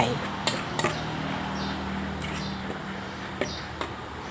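A pot of red curry paste stirred into coconut milk is set on a stove, with a few light metallic clinks and knocks against a quiet background while someone talks.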